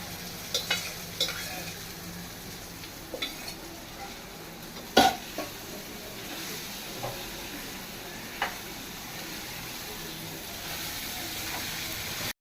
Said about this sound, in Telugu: ఇది వేగింది ఉల్లిపాయ అల్లం పేస్ట్ వేగింది ఇప్పుడు వేసేద్దాం జాగ్రత్తగా